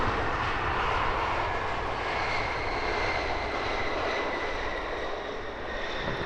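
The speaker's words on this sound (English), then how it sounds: "Number 1 to land, British Airways shuttle service in from Edinburgh." A British Airways shuttle airliner in from Edinburgh lands at Heathrow, its engines a steady broad roar that holds loud throughout, heard from nearby at the airfield.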